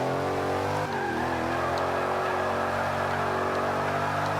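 A GT500 race car in Forza 5 screams along at high revs, its engine tone sliding up and down through gear changes in a continuous, loud drone with no voices.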